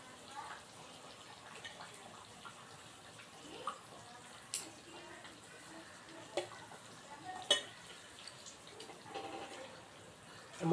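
Pieces of fish go into a boiling curry paste, giving a faint bubbling simmer broken by a few soft splashes and stirring clinks that grow slightly louder toward the end.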